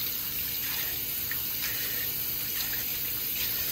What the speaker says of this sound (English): you want to rinse it one more time with cold water